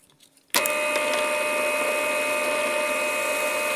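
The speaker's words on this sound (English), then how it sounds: "I've got an off cut of the olive top. And I've got my new tool mounted in the pillar drill here." A pillar drill fitted with a new cutting tool starts abruptly and runs at a steady high whine against an olive wood offcut, loud and close with no voices.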